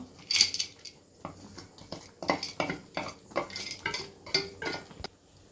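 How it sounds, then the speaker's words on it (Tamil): A metal spoon stirs thick custard kheer with roasted coconut and nuts in a pot, making rhythmic scraping clinks close by with no talk. "இப்போ எல்லாத்தையும் சேர்த்து நல்லா மிக்ஸ் பண்ணி விட்டுருவோம்"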